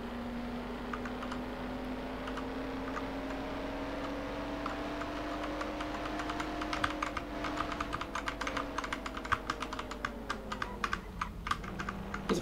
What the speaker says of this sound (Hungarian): Jó kis mechanikus billentyűzet hanga.